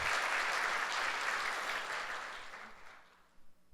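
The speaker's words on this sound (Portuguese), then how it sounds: "dê um aplauso a Jesus" Congregation applause at a Sunday church service: a dense, steady burst of clapping that holds strongly, then thins and fades out over the final second.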